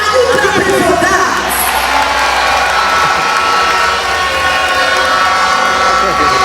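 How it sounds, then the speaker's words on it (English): A large crowd at an NDC youth manifesto rally in Ghana cheers and claps loudly and continuously, a dense roar of voices and hands filling the whole stretch without a break. "Are you clapping for that?"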